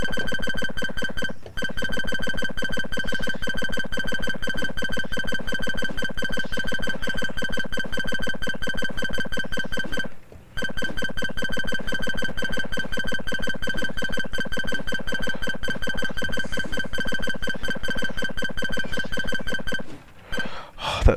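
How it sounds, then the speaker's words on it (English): Bright chirpy electronic blips from building in the 8-Bit Hordes video game repeat in a dense, steady stream that runs nearly the whole time, with brief gaps near the start and middle. "That little, chirpy sound every time you..."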